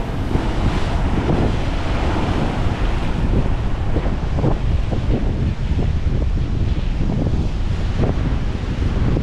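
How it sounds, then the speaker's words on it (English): Ocean waves break against a rocky shore near an anchorage at Devil's Backbone, Eleuthera, a loud continuous roar of surf and splashing mixed with strong wind buffeting the microphone, no voices. "It's a little dangerous though, because the waves are right there."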